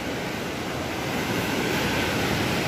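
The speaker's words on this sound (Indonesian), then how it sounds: "menyusuri tepian pantai" Surf washing steadily onto a sandy beach shore, a continuous broadband rush with wind mixed in, fairly loud and close, with no voices.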